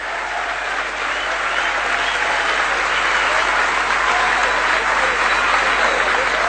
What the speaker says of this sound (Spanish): pedir desde el fondo de mi corazón un enorme aplauso para el compañero Amado Vudú